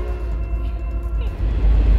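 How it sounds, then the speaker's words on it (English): A short coal train rolls past in rural Wisconsin with a heavy, steady low rumble and faint metallic squeal, growing louder toward the end, while a voice is briefly heard. "it's the coal train."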